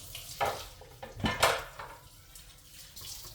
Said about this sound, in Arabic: هاي ملعقة مال محسن